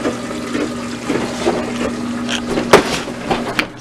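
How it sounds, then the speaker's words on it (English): A washing machine washes clothes after a shock absorber repair, giving a steady watery churning with a low mechanical hum and occasional sloshes and knocks, close and continuous, with no talking. "Shock absorber for the washer, and right now it is washing clothes"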